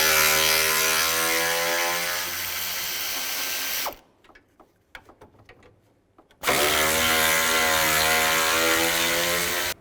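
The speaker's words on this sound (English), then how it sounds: "Take these 4 bolts out. There's 2 on this side, 2 on the other side. Use a 10mm socket." A power ratchet spins 10mm bolts out of a radiator cooling fan assembly on a 2006-2011 Cadillac DTS, a loud, close whirring buzz that runs for several seconds, pauses amid a few clicks and handling sounds, then resumes just as loudly.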